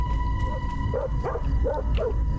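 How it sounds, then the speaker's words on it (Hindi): Dog barking inside a house in the horror video game Fears to Fathom: Carson House, a few short, muffled barks in a quick run, moderately distant over a low, steady background hum. "किसे भौंक रहा है?"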